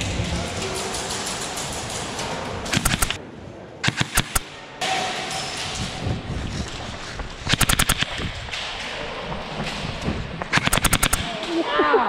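Full-auto bursts from a DSG ARP-9 submachine gun ring out in a video game, several rapid, loud rattling strings separated by pauses, over a constant background of game noise.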